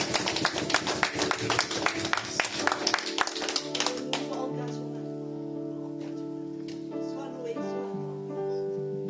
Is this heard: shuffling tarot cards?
no